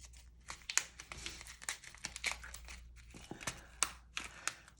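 A plastic sequin pack used for scrapbooking crinkles and crackles as it is handled and opened, close and fairly quiet, in a rapid irregular series of sharp rustles with no talking.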